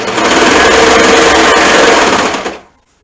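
A sewing machine stitching fabric runs in one loud, steady, close burst of fast mechanical whirring and rattling, then stops abruptly and the sound dies away.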